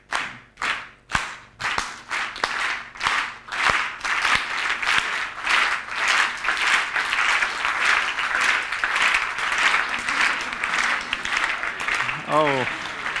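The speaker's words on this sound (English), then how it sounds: "it's a very nice way of getting applause" An audience at a talk on music claps, starting as scattered separate claps that quickly build into dense, sustained applause, with voices murmuring underneath.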